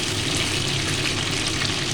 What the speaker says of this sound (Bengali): এদিকে চিকেনটা আস্তে আস্তে লাল করে আমি ভেজে নেব